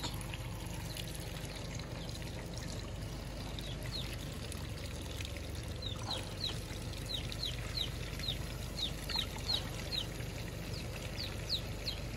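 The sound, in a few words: water being poured into a car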